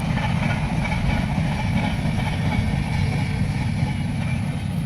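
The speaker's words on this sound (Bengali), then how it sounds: "এখন ট্রেন যাচ্ছে" A continuous low rumble of a train rolling past, with a heavy, even roar and faint rhythmic clatter throughout.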